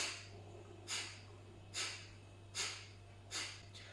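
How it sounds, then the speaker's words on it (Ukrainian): Four sharp, forceful exhalations through the nose in Kapalabhati yoga breathing, evenly spaced about a second apart, close and clear over a low steady hum. "Капалабхаті різкий видих носом."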